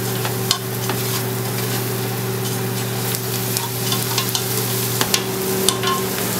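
Chopped kielbasa being stirred into onions in a hot pan, a steady sizzle with intermittent scraping clicks and taps of the utensil throughout, close and fairly loud, no voices.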